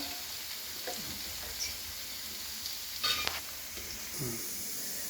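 Stuffed eggplant and chickpeas fry in a pan with a faint, steady sizzle, broken by a few soft scraping turns of a spatula, quiet and close.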